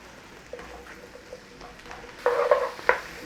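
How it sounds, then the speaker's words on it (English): Onions cook in a pan with a soft, steady sizzle, joined by a few louder stirring scrapes near the end as they are pushed around. "Start to cook your onions off, get rid of that rawness in there."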